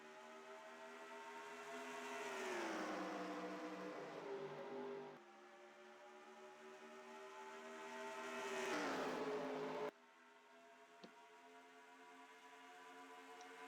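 Race cars in a stock car racing video game roar around Charlotte Motor Speedway, engine notes rising and falling in repeated sweeping pass-bys with steady high-pitched whine, no talk.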